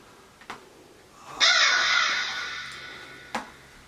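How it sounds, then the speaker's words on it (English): A single crow caws harshly in a drawn-out call from a sample pack, loud and close, with two short sharp clicks before and after. "I love this crow."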